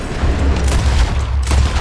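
Loud, dense burst of gunfire in Red Dead Redemption 2, with several sharp shots merging into a continuous rattling barrage with a heavy low rumble throughout.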